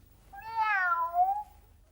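A single drawn-out cat meow, rising then gently falling over about a second, close and clear against a quiet, faintly humming background with no talk; from a 1991 children's TV programme.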